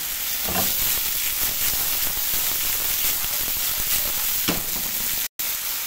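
Chicken breast sautéing in a pan with a little soy sauce makes a loud, constant close-up sizzle with faint stirring knocks, broken by one very brief dropout near the end.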